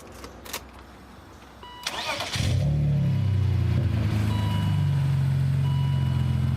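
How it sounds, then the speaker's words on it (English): A few clicks, then a BMW 530i straight-six engine with a 5-speed manual cranks and catches, settling into a steady, smooth idle close by. "Let's fire her up and see how she sounds."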